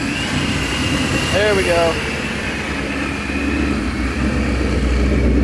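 A Paxton-supercharged Ford Mustang engine turns over and settles into a steady, loud idle with a rising whine, while someone speaks briefly over it.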